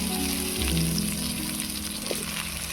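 Bitter gourd sizzling as it hits hot oil in a pan, a steady loud frying hiss with crackle throughout, close and continuous with no talk.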